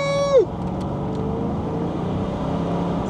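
Engine note of a car accelerating in a BMW 730d E65 versus Mercedes S400 run, a tone sweeping down at the start, then a steady drone with road noise.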